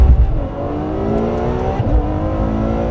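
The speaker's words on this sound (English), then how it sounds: "Ferrari F12. Berlinetta with launch control, but I'm not going to use it. Rolling launch." A Ferrari F12 Berlinetta's naturally aspirated 6.3-liter V12 pulls hard in a rolling launch, a loud rising engine howl heard from close by that shifts once partway through.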